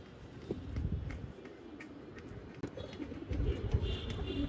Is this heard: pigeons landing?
yes